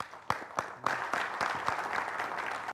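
Audience applause welcoming a poet at a poetry gathering: a few sharp separate claps at first, then building into dense, steady clapping from a seated crowd that cuts off abruptly at the end.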